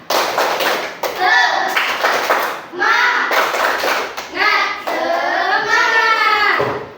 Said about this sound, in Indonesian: Yang pertama, tepuk semangat, tepuk semangat.